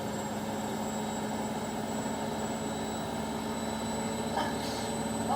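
An Indesit washing machine spins at high speed around 1200 rpm, giving a steady, loud mechanical whir and hum with constant tonal whine throughout, no pauses.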